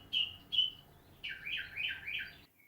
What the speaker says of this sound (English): can you guys hear that bird?